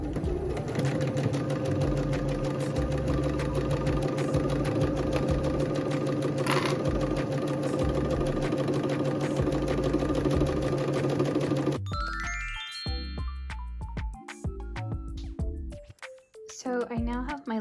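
A sewing machine runs a steady straight stitch along the edge of a tote bag, humming continuously for about twelve seconds close to the microphone before it stops and the room falls quieter.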